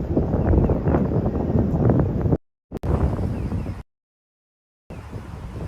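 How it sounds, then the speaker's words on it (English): Gusts of wind buffet an outdoor microphone in Jamsil, Seoul, a loud broadband rumble that drops out twice in sudden gaps before resuming. "you can probably hear that gust of wind"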